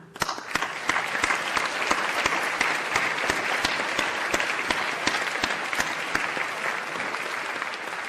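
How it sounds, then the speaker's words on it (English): Sustained applause from a seated audience in a hall at a medical school graduation ceremony, dense and even throughout, with sharp individual claps standing out near the microphone and little talk. "We applaud you."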